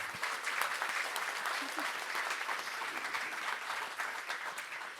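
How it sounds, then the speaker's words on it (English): An audience applauding a medical panel and its moderator, a steady wash of many hands clapping at moderate distance throughout, sustained without letup and fading slightly at the end. "could we just have a round of applause for everybody on the panel and our moderator, Nate."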